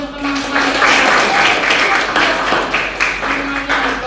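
A classroom of students claps for their classmates, steady dense applause filling the space throughout, with voices mixed in under the clapping.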